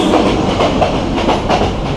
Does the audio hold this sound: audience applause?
no